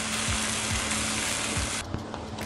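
Chopped tomatoes go into frying masala for an egg curry, producing a loud, steady sizzle that drops off suddenly near the end, with a few soft clinks.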